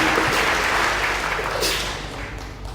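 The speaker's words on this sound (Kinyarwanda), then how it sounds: "Twongere umwami Imana yacu amashyi meza cyane" A church congregation at a pastor's service claps together in dense, sustained applause that holds steady and then tapers slightly toward the end.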